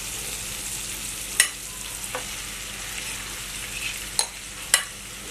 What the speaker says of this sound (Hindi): अब मैं इसमें ये मैश्ड पोटैटो डाल दूंगी।